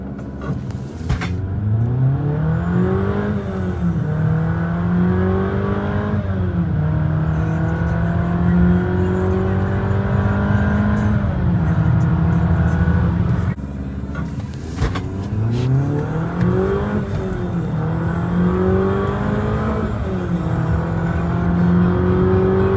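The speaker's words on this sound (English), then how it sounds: "rev up the engine a little bit and see what it does." A 2020 Jeep Compass Trailhawk engine revs repeatedly with traction control off, rising and falling through strong climbing surges, holding a steady drone between, then a pause and another round of revving, close and loud.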